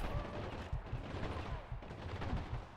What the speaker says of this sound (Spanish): Me está disparando de allá